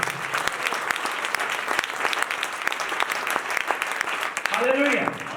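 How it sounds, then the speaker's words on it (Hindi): A church congregation applauds loudly and steadily after being urged to clap for the King, a dense sustained clatter of many hands, with a voice briefly rising over the crowd near the end. "हाथ बुलंद करके ताली बजाएंगे"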